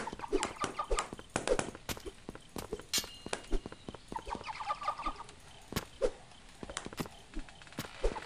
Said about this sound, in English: I don't want to kill these chickens, man.